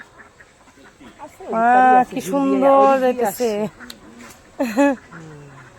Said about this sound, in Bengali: মা দেখো কত হাঁস গরমে স্নান করতেছে